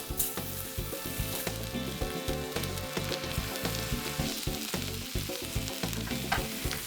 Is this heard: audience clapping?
no